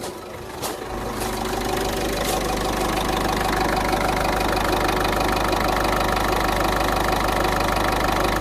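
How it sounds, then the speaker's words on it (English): A Citroën C3 1.4 HDi diesel engine with a fuel pressure fault cranks briefly and catches, then settles into a loud, steady, clattering idle close by. "Now I'm going to start the engine"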